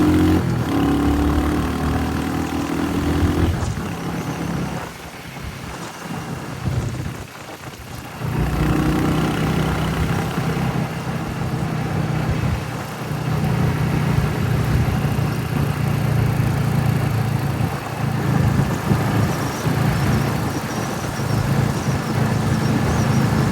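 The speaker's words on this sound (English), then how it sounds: "So let's rev this." Royal Enfield Hunter 350 motorcycle engine, close and loud, running with a steady low thump and rising and falling revs across the clip, with a brief dip midway before picking up again.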